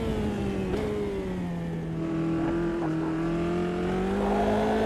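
Formula 3 race car engine in a racing sim game, heard from the cockpit: a steady high-pitched drone that dips as the car brakes, then rises smoothly again under acceleration, with no talking over it.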